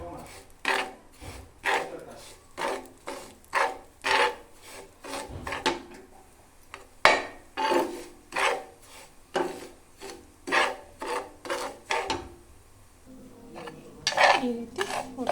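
Medium semolina roasting in a little oil in a pan, stirred with a steady rhythmic scraping of utensil against metal, repeated strokes about once per second, close and distinct, with no talk.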